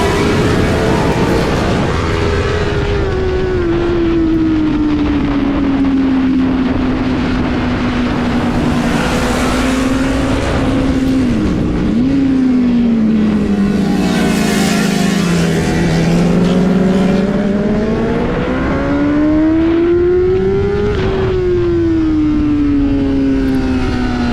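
Racing motorcycles on a circuit during a fight for the lead, engines droning loudly and continuously with rising and falling pitch as they pass and shift.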